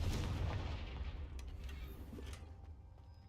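A blasting spell cast in a video game bursts into a broad, rumbling boom that dies away slowly over a few seconds, with no voices over it.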